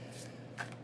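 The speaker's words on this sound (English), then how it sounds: "I'm shuffling my zodiac deck here" Zodiac card deck being shuffled by hand, two soft papery riffling bursts close up with a faint hum beneath and no talking.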